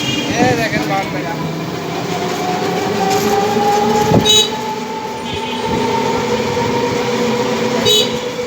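A train rolls through a railway level crossing in Brahmanbaria, a loud close rumble and clatter of wheels that lasts throughout, with sharp horn blasts sounding briefly a couple of times.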